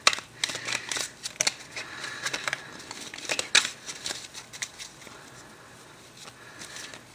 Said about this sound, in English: I'm a little messy on the shuffle. Cards are going everywhere.